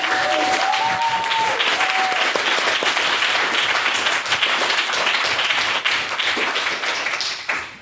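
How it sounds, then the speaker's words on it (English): A debate audience breaks into sustained, loud applause, dense clapping filling the room for several seconds before tapering at the end. "can we please give her another round of applause for her work?"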